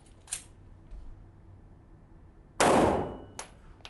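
A pistol fires during a figure-8 shooting drill: one loud, sharp report with a short decaying tail, plus a couple of fainter, briefer cracks in otherwise quiet surroundings.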